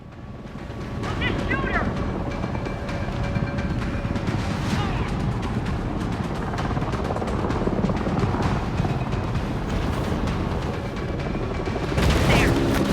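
In the Maneater video game, a helicopter drones with a steady, continuous rotor roar, mixed with booming gunfire and game noise, and the sound swells louder near the end.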